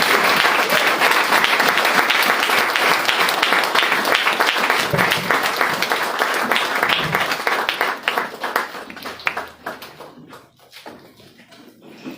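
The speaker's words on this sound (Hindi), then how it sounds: "हमारे अपोस्टल सर अब्राहम को तालियों के गड़गड़ाहट से हम स्वागत करेंगे" Church congregation at an AG church in Shillong breaks into loud, sustained applause welcoming Apostle Sam Abraham, steady dense clapping that tapers off into a few scattered claps near the end.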